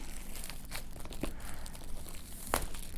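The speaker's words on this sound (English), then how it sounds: "Go ahead and rip the plastic open." Plastic wrap on a Samsung Galaxy S III box is torn and crinkled open, a close, soft crackling with a couple of sharper rips, no speech.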